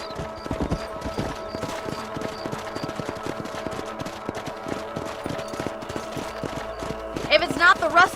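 Horse hooves clop steadily while riding in the Red Dead Redemption video game, a brisk regular gait heard throughout, with a voice talking over the end and a few higher effects near the close.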